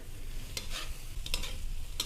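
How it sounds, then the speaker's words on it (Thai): Cabbage is stir-fried with boiled mee sua noodles in a pan, with a continuous oily sizzle and repeated scraping stirs of a utensil at close range. "เราจะผัดให้แค่กระหล่ำปลีนะคะ"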